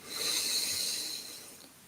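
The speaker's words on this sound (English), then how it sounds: "Another deep breath." A single slow, deep breath taken during a guided breathing exercise, a soft airy hiss that swells and then fades, close and quiet with no talk.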